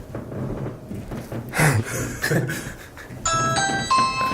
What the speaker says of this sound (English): There's a doorbell right here.